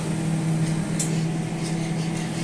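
A newly bought microwave oven runs with a steady, close mechanical hum and whir that holds level throughout, with nothing else standing out.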